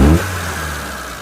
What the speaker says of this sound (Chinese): 急加油，声音发闷，